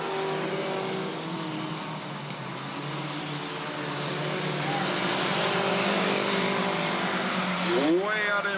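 Race cars circle Southern Oregon Speedway, a loud continuous roar of several engines with whining tones that swells toward the end as cars sweep past, while an announcer talks over it.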